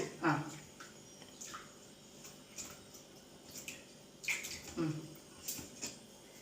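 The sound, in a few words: washing by hand with running water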